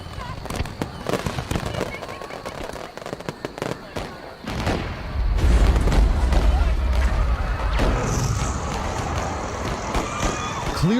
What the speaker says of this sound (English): there's actually a bit of a fireworks show at Starr Park